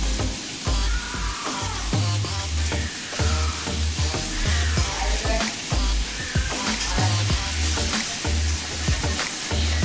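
Cauliflower fries in a pan with constant loud, dense sizzling and crackling close by, while a utensil stirs and scrapes through the pieces at irregular intervals.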